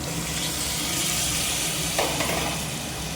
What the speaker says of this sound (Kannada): ಈರುಳ್ಳಿ ಸೇರಿಸ್ಕೊಂಡು ಚೆನ್ನಾಗಿ ಫ್ರೈ ಇದ್ದೀನಿ ಇದಕ್ಕೆ ನಾಲ್ಕು ಟೊಮೊಟೊ ಸೇರಿಸ್ತಾ ಇದ್ದೀನಿ